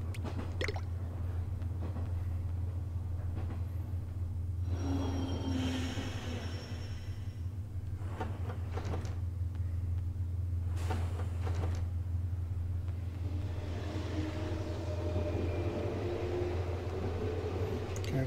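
A train pulling into a station in the Yo-Kai Watch 2 video game: a steady low rumble runs throughout, with occasional squeals, clanks and hissing of brakes layered on top.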